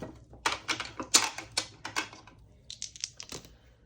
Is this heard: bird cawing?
no